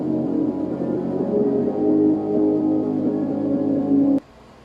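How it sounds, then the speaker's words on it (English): Filtered electric guitar in a music production, playing a continuous sustained tonal passage with a sweeping filter for about four seconds before cutting off abruptly into near silence. "It's an electric guitar that it's filtered."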